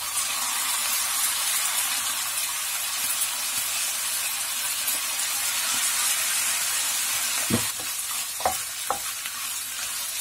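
Three spoons of soy sauce hit a hot stir-fry of soybean stalks, beef mince and onion, producing a continuous loud hiss and sizzle, then a few sharp scraping stir clacks near the end, with no voices.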